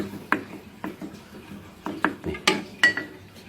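Two eggs beaten in a bowl for a minced-pork omelette, with repeated clinking strokes of a utensil against the bowl at an uneven rhythm, close and fairly clear.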